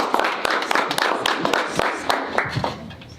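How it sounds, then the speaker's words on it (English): A crowd claps for the Skyline girls flag football team at a school sports media day: a burst of close, uneven hand claps in a loose rhythm that thins out toward the end, with some voices mixed in. "Skyline girls flag football, guys, clap it up."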